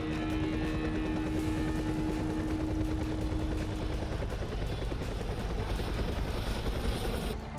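Attack helicopter in flight over a military exercise near Jodhpur, a loud continuous rotor and engine roar filling the whole stretch with a steady tonal whine that fades midway, no voices.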